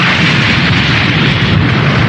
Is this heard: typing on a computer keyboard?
no